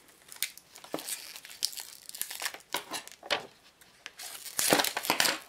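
Crinkling and crackling packaging as a makeup palette with six eyeshadows and a blush is opened, a run of irregular crisp rustles and snaps, close and moderately loud, with no talking.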